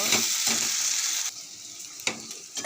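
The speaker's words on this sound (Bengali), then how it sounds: "মশলাটা দিয়ে একটু নেড়ে নেব" Fried potato and brinjal being stirred with spice paste in a pan, a close, steady sizzle broken by a few scraping strokes of the spatula, with no talking.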